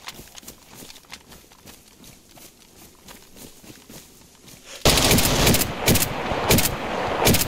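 Video-game PKM machine gun and pistol fire: scattered quieter shots at first, then a loud burst of rapid automatic bursts dominating the second half.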